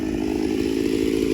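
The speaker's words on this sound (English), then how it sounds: "This is the most powerful chainsaw I've ever had in my hands." A ported 82cc Homelite Super XL-925 chainsaw runs near and loud at steady high revs, its buzzing motor tone holding constant throughout with no voices.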